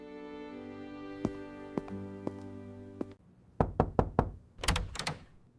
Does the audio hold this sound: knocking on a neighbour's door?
yes